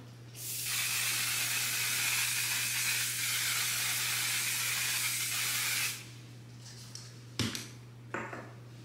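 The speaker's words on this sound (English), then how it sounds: "I'm just gonna go and spray this on." A makeup setting spray mists onto a face in one long continuous hiss of about five seconds, close and steady, followed by a few faint handling clicks and taps.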